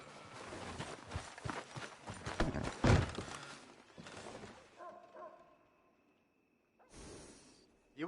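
In Red Dead Redemption 2, a horse's hooves clatter loudly in a busy stretch, then a short snort-like burst and a quieter hum before a final sharp rush of noise near the end.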